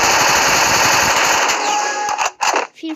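Rapid automatic bursts from an MP5 submachine gun in the Free Fire video game, a dense rattling stream of shots lasting about two seconds, then a few separate loud blasts, with no talk.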